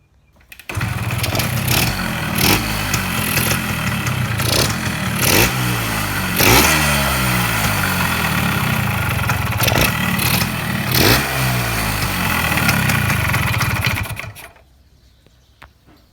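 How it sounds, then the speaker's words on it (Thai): An old Kawasaki GTO motorcycle engine starts and runs, a loud, close, buzzing two-stroke idle that rises and falls with repeated revs before cutting off abruptly near the end. "ตัวนี้เครื่องก็ดีนะ เดี๋ยวผมสตาร์ทให้ดูนะผม"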